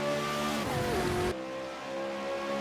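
V8 Supercar racing car on the Indianapolis road course, engine note droning steadily with a pitch dip as it brakes and shifts down into a corner, then a change as it passes by, continuous and fairly close.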